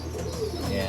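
Racing homer pigeons coo nearby, soft throaty warbling calls rolling over a faint background hum, with no speech.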